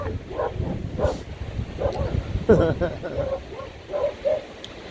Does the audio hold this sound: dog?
yes